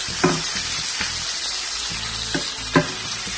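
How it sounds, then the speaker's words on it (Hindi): Finely chopped ginger and garlic sizzle in hot oil over high flame while being stirred in a pan, a steady close frying hiss broken by several sharp scraping stir strokes. "इसको बिल्कुल हाई फ्लेम में आपको फ्राई करना है तमाम चीजों को"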